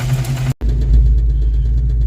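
Ford Foxbody Mustang engine idling loudly up close with a heavy, rough low rumble and a knocking fault, cutting out for an instant before running on.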